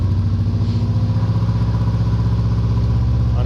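A manual six-speed Subaru STI engine running just after a remote start, a steady close throbbing idle with a rapid even pulse, alone with no voices, on a wet day outdoors.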